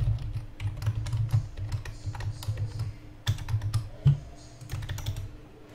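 Keys clatter on a computer keyboard as C# code is typed in Unity, quick irregular bursts of close keystrokes with brief pauses between runs.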